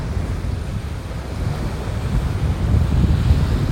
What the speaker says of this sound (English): It's not wind, it's a strong breeze.